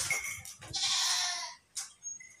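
An Osmanabadi goat bleats in a few short, nasal calls, close and fairly clear against a quiet farm background.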